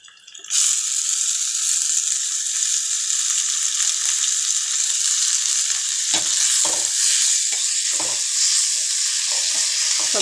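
Chopped tomatoes hit a pan of frying onions and set off a loud, dense, continuous sizzle that holds steady throughout, with a few soft stirring scrapes later on.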